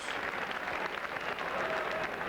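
Rugby league crowd at a Wigan versus Hull KR match applauds and cheers from the far side of the ground, a dense, steady roar of clapping and voices that sounds distant and continuous.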